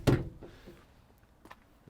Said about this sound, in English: Twin barn doors at the back, open to 90 degrees.